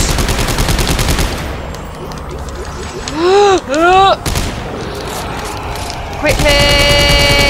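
Gunfire from the sci-fi survival horror game Dead Space 3 rattles in dense bursts behind frantic co-op talk, with a sharp squealing sweep of game effects in the middle and another loud burst of shots at the end.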